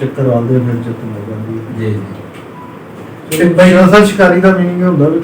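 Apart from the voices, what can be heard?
No everyday noise stands out behind the speech.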